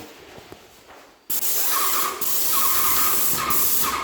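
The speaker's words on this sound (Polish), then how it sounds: "Staram się tutaj blisko tej frame psikać mimo wszystko" A paint sprayer spraying white acrylic paint near a window frame during interior decorating, with a sudden loud continuous hiss that starts after a quiet moment and keeps going with slight pulses.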